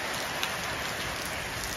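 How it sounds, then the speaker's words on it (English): Steady rain falls on outdoor surfaces during a cold, windy spell, a dense, even patter that holds at the same level throughout with no voices. "It's been raining for 3 days straight."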